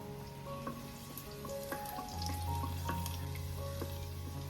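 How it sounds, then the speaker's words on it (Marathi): Crushed garlic fries in hot oil for a Konkani dried shrimp and potato curry, a soft continuous sizzle with faint clinks and a low hum joining partway through, fairly quiet overall. "लसूण छान शिजवून घेऊया।"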